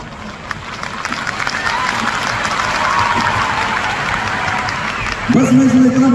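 Audience at a large public gathering applauding and cheering after a speech, a dense sustained clapping roar, then a voice cuts in loudly over the crowd near the end.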